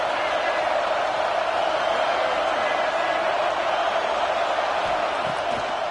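A stadium crowd at a football game keeps up a constant, loud roar, an unbroken wash of noise with no distinct peaks across the whole stretch.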